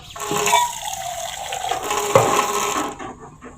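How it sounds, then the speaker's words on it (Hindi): Water splashes and hisses as it is poured into a hot pan of dal tempering with fat red chillies, cumin and garlic, a loud sizzling rush lasting a few seconds before it tapers off. "अब इसके अंदर हम थोड़ा सा पानी का डालेंगे छट्टा"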